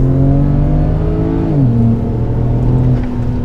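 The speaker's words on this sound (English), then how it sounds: "Wheel spin." A tuned BMW 335i with the N54 turbo engine launches hard, its loud engine note holding steady and then stepping in pitch, continuous and close with no talk.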